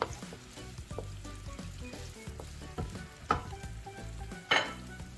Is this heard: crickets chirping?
no